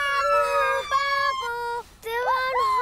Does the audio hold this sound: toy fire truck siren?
yes